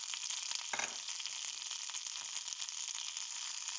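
Drumstick (moringa) leaves fry in a little oil in a pan over low flame, giving a steady, dense sizzle with a brief louder crackle near the start, close and continuous with no talking.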